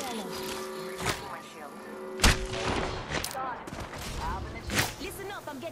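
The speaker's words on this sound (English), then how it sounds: "Listen up, I'm getting shot at." Bursts of gunfire directed at the player during a squad battle-royale match, with sharp loud shots at intervals over constant talk and game noise.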